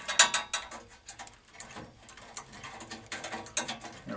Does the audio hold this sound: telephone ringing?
no